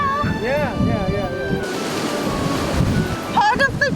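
Ocean waves surge and break against a rocky, primitive coastline trail in Taiwan, with gusty wind buffeting the microphone and people talking over the steady roar of the surf.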